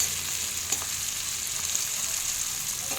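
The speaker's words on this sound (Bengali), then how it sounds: "এই যে উচ্ছে আলু ভাজাটা হয়ে গেছে দেখুন" Sliced bitter gourd and potatoes sizzle steadily in a pan, a continuous hissing fry with faint occasional stirring clicks and no talk.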